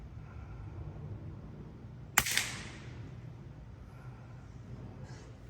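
A suppressed .22 rifle shot, fired with a CCI subsonic round through a Dead Air Mask suppressor: one sharp, moderately loud crack with a brief tail, set against a steady low outdoor background.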